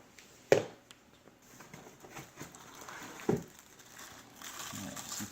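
Packaging being unwrapped from a Bissell CrossWave multi-surface floor cleaner, with two sharp crinkling bursts and lighter rustling of plastic and cardboard close by, growing busier toward the end.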